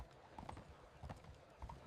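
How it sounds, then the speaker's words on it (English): Horse-drawn carts clip-clopping along a city street in early 1800s New York, the hooves striking in a steady, soft rhythm against low background rumble. "Horse-drawn carts filled the streets"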